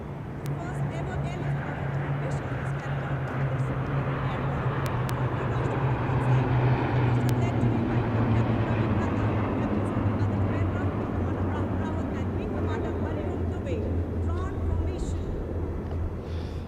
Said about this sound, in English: इसमें आगे एक C-17 और पीछे 2 C-130 400 मीटर की ऊंचाई पर राजपथ के उत्तर में वाटर चैनल के ऊपर से निकल रहे हैं